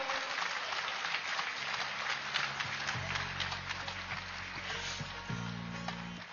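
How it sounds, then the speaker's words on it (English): Crowd applauding volunteers at a live wisdom session, a broad steady wash of clapping that carries on through the whole stretch, with a low sustained hum or tone joining partway through. "can we have a huge round of applause to all the volunteers"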